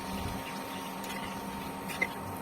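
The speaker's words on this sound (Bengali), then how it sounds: "এবার জল দিয়ে দিচ্ছি" Water poured into a paneer masala curry, a steady faint trickling rush with a tiny splash near the end.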